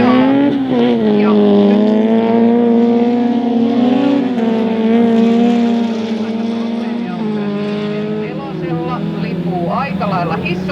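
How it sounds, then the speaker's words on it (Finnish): Rallycross race car at a Finnish championship event pulling away under a loud, continuous engine drone that climbs and shifts pitch several times, with a commentator talking over it throughout. "saa auton liikkeelle"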